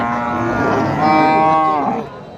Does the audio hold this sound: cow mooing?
yes